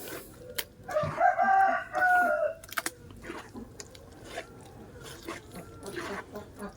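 Chickens cluck and a rooster crows nearby, with scattered bird calls and a person speaking briefly in between.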